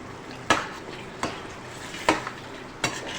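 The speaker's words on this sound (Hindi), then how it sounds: "इसको हम मिक्स करेंगे और मिक्स करते साथ ही हम इसके अंदर जो भी हमने टमाटर, हरी मिर्च, लहसुन जो था इसका ये पेस्ट जो बनाया है, हम ये पेस्ट भी इसमें ऐड कर देंगे।" A tomato, green chili and garlic paste is stirred into chana chaat in a pan, with four distinct spoon scrapes and knocks against the pan over a soft background sizzle, with no talking.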